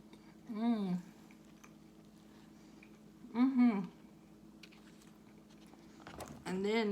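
Someone chewing a bite of a gyro sandwich loaded with tomatoes and tzatziki sauce: soft, moist mastication, with a few short bursts of talk between.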